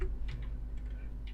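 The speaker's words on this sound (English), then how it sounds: "Let me just type it in." Typing on a computer keyboard, a brief run of light, quick key clicks, faint and close, over a low steady hum.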